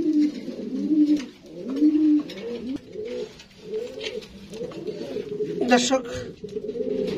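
A King pigeon hen coos in a repeated, rolling series of soft throaty calls close by, while someone talks over them.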